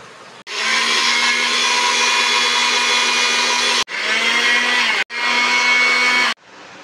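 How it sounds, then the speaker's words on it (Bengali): A kitchen blender grinding tomatoes for a Bengali-style pomfret fry whirs loudly and steadily in three bursts, a long run followed by two shorter ones, each cut off sharply, with no talking. "সঙ্গে আমি টমেটোটা দেব, দিয়ে একসঙ্গে আমি বেটে নেব।"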